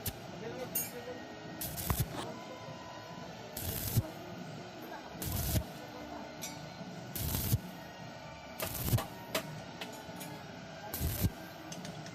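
Welding on a motorcycle exhaust pipe crackles and hisses in repeated bursts, several seconds apart, with a person talking over it.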